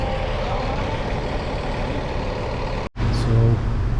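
An early-morning bus pulls away from a stop in La Romana, Dominican Republic, its engine a loud, rumbling idle that cuts briefly, then surges back with a deeper rising growl as it departs.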